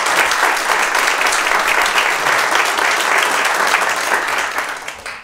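A tech-industry audience in Rhode Island breaks into a steady, full round of applause, dense clapping sustained throughout before tapering slightly at the end, with no talking over it.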